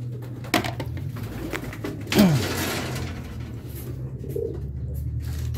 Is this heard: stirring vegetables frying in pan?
no